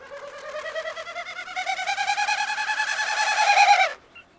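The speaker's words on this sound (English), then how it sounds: "Is anyone familiar with the winnowing sound of Wilson's snipe as well?" A Wilson's snipe's tail feathers produce a winnowing, a fast pulsing hollow hoot that rises and swells over about four seconds before cutting off, heard alone and fairly close.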